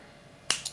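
Two quick finger snaps in close succession, the first louder and the second slightly softer, clapping out crisply over near silence to toggle a lamp on and off in a basic 220-volt circuit.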